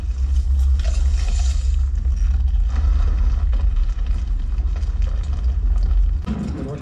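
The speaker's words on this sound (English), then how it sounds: "The recording of a car rolling in gravel, slowed down, becomes the giant boulder." Car tyres rolling over gravel, slowed down to serve as a giant rolling boulder effect: a deep, heavy, continuous rumble with grinding texture, loud and steady throughout, easing off near the end.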